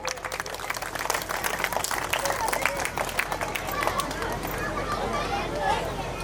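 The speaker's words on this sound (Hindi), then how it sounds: "जोरदार तालियां बच्चों।" Applause from an audience of children at a school Independence Day function fills the scene, a dense steady patter of many hands with crowd noise and voices mixed in throughout.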